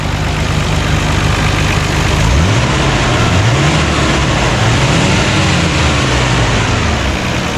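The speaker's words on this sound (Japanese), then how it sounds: "Let's check the engine" A Nissan Skyline GT-R (BCNR33) engine idles loudly, then revs up and back down a few times in smooth swells over a constant rumble.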